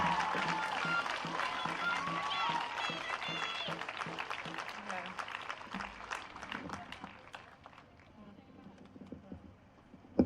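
A crowd at a Black Lives Matter rally in Kelowna claps and cheers. Dense applause rings out loud at first, then thins into scattered claps and fades near the end.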